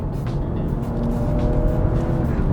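BMW M440i accelerating as the throttle is pressed, a steady low engine drone building slightly in loudness over a couple of seconds from inside the car, with no talk.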